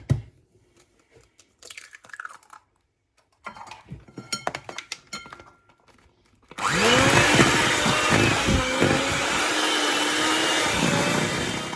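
After scattered clinks and quiet handling, an electric whisk starts up abruptly and runs loud and steady, beating eggs into churros batter in a bowl with a continuous whirring buzz.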